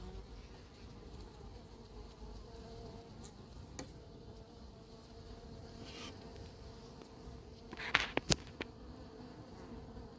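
Bees droning around an apiary hive in Crosne, a steady low buzz filling the background with a few louder, sharper passes close by near the end.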